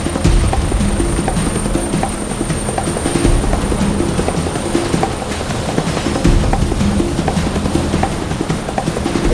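Over a lifeboat at sea, a rescue helicopter hovers during winching, its loud, continuous rotor thudding steady throughout and close by.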